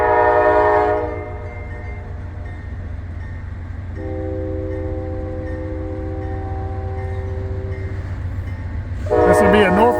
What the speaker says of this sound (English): This will be a Norfolk Southern mixed freight coming through, poking along.